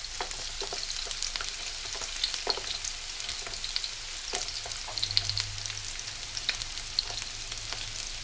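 Chopped onion fries over medium heat in a pot, giving a steady, quiet sizzle with scattered crackles and light stirring clicks throughout, no voices.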